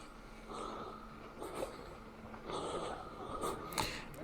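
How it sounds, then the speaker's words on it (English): A hiker breathes heavily right beside a GoPro during a walk up the Wrekin in Telford. Close, rhythmic snorting inhales and exhales come in repeated bursts over the wind. "you're going to hear some heavy breathing"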